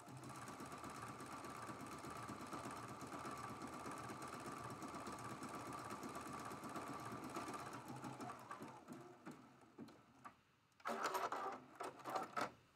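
Close, continuous whirring of a sewing machine stitching along the border of an art quilt, steady for most of the time before slowing into scattered handling noises and a short burst of motor at the end.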